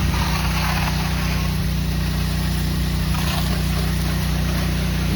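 A pressure washer with a narrow shooter tip rinses dirty windows, its motor droning loudly and steadily beneath a constant broad hiss of spray with no break.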